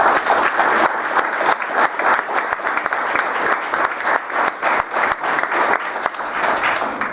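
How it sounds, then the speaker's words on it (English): Steady, dense applause from an audience at a fire safety awards ceremony, sustained and fairly loud throughout with crisp individual claps cutting through the wash. "I want to give Pete Palestina a round of applause for all of his work."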